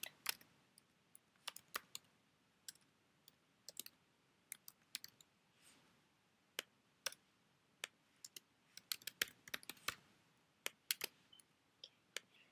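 Irregular keystrokes on a computer keyboard, typed while building a Google Slides project: sharp, close clicks in scattered bursts, with brief pauses between them, in an otherwise quiet room.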